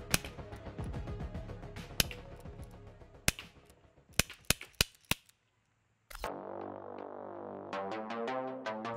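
Chiappa Rhino 50DS CO2 airsoft revolver fired in a string of sharp, separate pops with a gap of silence midway, followed by a steady tonal hum or music bed.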